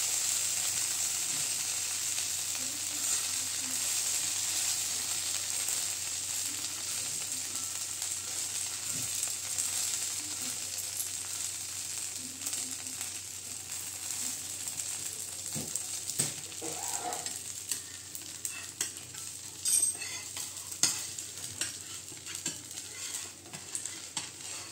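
Davangere butter dosa filling sautéed in a hot pan, a steady low sizzle with scraping stir strokes running throughout, faint and close, no voices.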